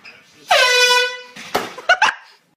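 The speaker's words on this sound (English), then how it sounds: "This is the air horn prank, part 2." A loud air horn blast rings out for about a second, followed by a few short bursts of shouting voices.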